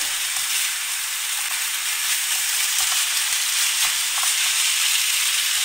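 Cooked vermicelli, cut into small pieces, frying in a pan of vegetables, giving a steady, close hiss of sizzling with faint crackles throughout and no voices.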